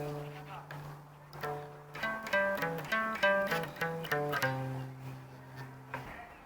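The next bar of the bass line comes from a solo electric bass, a sequence of plucked notes in an even rhythm with a held low note at either end, soft and close with no talking.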